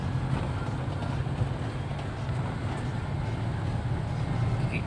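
Engine of a 2006 Toyota Innova pulling uphill in fourth gear, a steady low droning hum with wind and road rumble, no voices.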